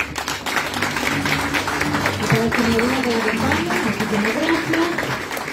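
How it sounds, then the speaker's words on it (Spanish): Applause for a graduate at a graduation ceremony of the Instituto Oficial San Buenaventura, steady crowd clapping throughout with a voice speaking over it. "Aplauso para esta joven"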